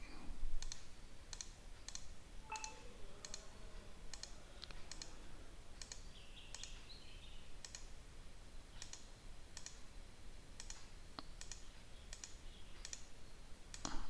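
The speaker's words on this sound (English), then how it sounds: "Don't release spacebar, and then you can release the spacebar and start tracing." Computer spacebar presses and mouse clicks while tracing irrigation assets in QGIS mapping software: a regular series of sharp, close clicks roughly every half second, quiet over faint room hiss.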